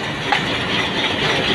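A passing train on the Islamabad to Jhang line makes a steady, loud rolling rumble of wheels and carriages, close by and unbroken, with no voices.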